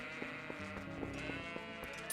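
Goats in Zelda: Twilight Princess HD bleat in a series of faint, repeated, quavering cries, with no talk.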